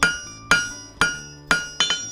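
Hammer striking hot metal on an anvil while a blacksmith forges a point, five sharp ringing blows at an even half-second rhythm, the last two closer together, each decaying with a bright metallic ring.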